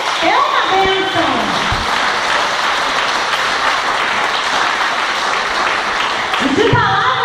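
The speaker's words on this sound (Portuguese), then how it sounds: "Vamos aplaudir o Senhor porque você é uma bênção." Church congregation at a women's gathering applauds loudly and steadily, with a voice speaking briefly at the start and again as the clapping ends.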